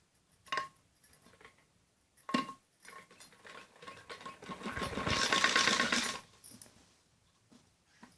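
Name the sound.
sewing machine stitching the side seam of a kids top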